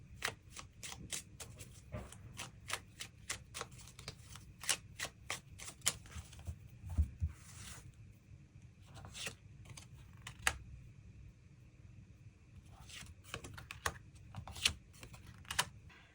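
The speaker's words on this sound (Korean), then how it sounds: "그 부분 추가 카드 뽑아보도록 하겠습니다." Tarot cards being shuffled and drawn, a long run of crisp riffling clicks and flicks in quick bursts with brief pauses, close and fairly quiet, no talking.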